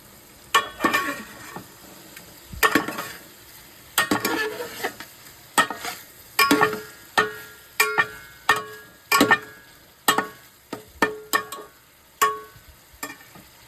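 Marinated chicken for homemade shawarma frying in a pan, with a steady run of sharp stirring clacks and scrapes repeating about once a second over a faint sizzle.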